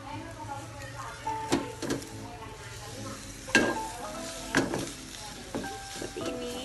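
Egg sizzling in a frying pan while being flipped for an omelette, a steady frying hiss broken by sharp scraping and clattering strokes of the spatula against the pan, with a voice speaking over it.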